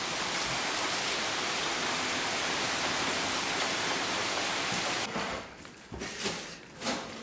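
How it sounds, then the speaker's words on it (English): Heavy rain pours down in a dense, loud, steady hiss for about five seconds, then thins into a patchier wash of falling water with a few louder bursts. "I'd say that with this downpour,"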